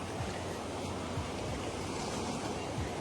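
Strong waves and surf at a riverside campsite in Norzagaray, Bulacan, a dense continuous wash of water with wind rushing across the microphone, loud and unbroken throughout.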